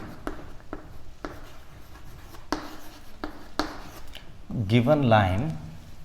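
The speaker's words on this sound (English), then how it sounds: "So we'll write the given line now." Pen scratching out a linear equation on paper, a series of short strokes and taps, close and fairly quiet, with a voice speaking briefly near the end.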